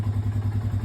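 An ATV engine idles steadily just after a battery charge, a short burst of rhythmic, pulsing low chugging heard close and alone.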